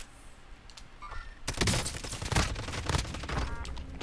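Gunfire in the shooter game Call of Duty Warzone: a quiet lead-in, then from about a second and a half a dense, loud volley of shots and impacts that keeps crackling to the end.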